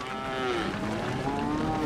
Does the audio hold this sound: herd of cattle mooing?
yes